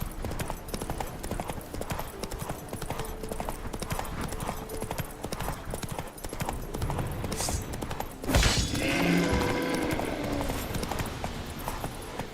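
Horse hooves clip-clop at a steady gallop in The Witcher 3: Wild Hunt, a continuous rhythmic drumming throughout, with a brief crash and louder burst near the end.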